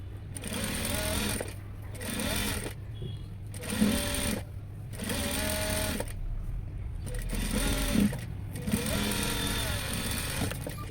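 A sewing machine stitching a princess-cut blouse runs in repeated bursts of rapid mechanical whirring, about six runs separated by short pauses, close and steady throughout.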